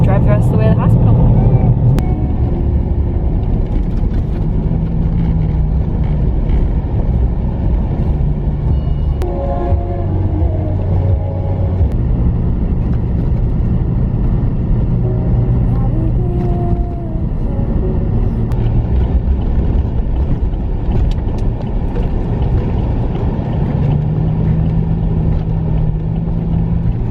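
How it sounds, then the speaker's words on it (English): A car drives along a road on the way to a hospital during a blizzard, a steady, loud interior engine and road rumble lasting throughout, with faint voices mixed in underneath. "drive the rest of the way to the hospital"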